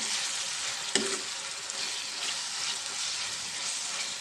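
Raw prawns frying in a pan for a ridge gourd and prawn curry, a continuous moderate sizzle close by, one sharp clack near the start, with no voices.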